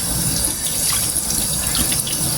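A large mango rinsed under a running kitchen tap, with a steady, loud rush of water splashing close by throughout.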